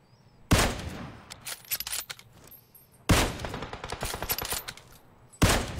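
Gunfire in a video game: three sudden loud bursts of rapid shots, each trailing off into a rattling decay, with quieter echoing crackle between them and no talking.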